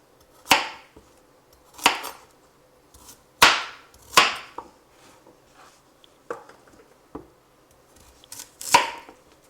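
A knife coarsely chops vegetables for soup stock on a cutting board in slow, irregular strokes, each a sharp, close thunk followed by brief quiet.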